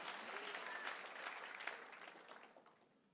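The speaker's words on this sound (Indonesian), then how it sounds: "Tepuk tangan yang paling meriah buat Allah kita." A church congregation breaks into warm, sustained applause, with many hands clapping in a dense wash that swells early and then gradually fades toward the end.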